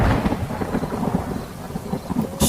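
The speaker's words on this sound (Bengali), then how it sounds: "সেই সঙ্গে ভেসে আসছে মৃদু বাজ পড়ার শব্দ। ক্রমশ বেড়ে উঠছে বাজের দাপট।" Thunder and rain effect in a Bengali horror audio story: a continuous low rumbling roll of thunder over steady rain, loud and close, ending with a sharp brighter burst.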